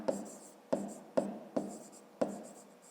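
A pen writes on paper in five short, evenly spaced scratchy strokes, faint and close, with no talking.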